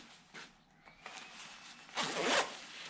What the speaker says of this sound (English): If I zip up my jacket